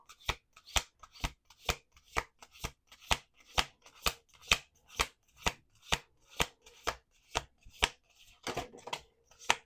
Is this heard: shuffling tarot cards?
yes